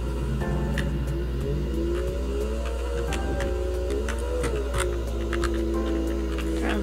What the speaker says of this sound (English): the idle sound inside of it is very loud